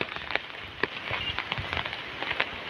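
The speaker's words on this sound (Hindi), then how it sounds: "तेज बारिश शुरू हो गई है" Heavy rain falls in the Himalayan mountains near Yamunotri, a dense, steady patter with scattered sharper drops hitting nearby surfaces, heard alone.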